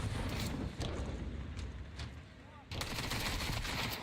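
Pistol gunfire during a Counter-Strike 2 pistol round, dense overlapping shots and bursts with a sharp cut around the middle, heard under a caster's talk.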